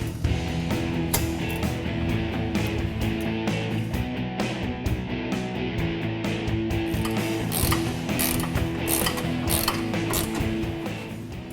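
A ratchet tightens the clamp joining a stainless steel MagnaFlow cat-back muffler to the mid pipe on a Ford Focus RS, loud rapid clicking strokes in a continuous run, close up with no talk.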